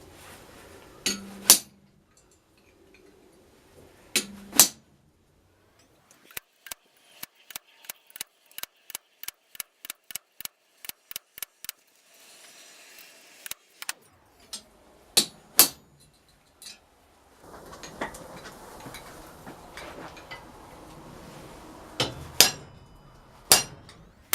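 A hammer strikes a double bevel cold chisel against metal while shaping heart hasps and hinges, giving sharp ringing clinks: a few spaced blows, then a quick rapid run, then more scattered hits.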